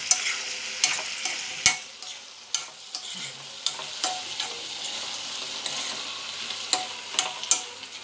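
A spoon stirs dried fish and tomato curry in a hot pan, making repeated sharp scrapes and knocks roughly every half second over a light sizzle, close by and with no speech.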